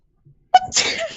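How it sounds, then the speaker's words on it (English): A single sharp human sneeze bursts out close and loud, preceded by a faint short intake, then trails off in a breathy rush. "Is that your sneeze?"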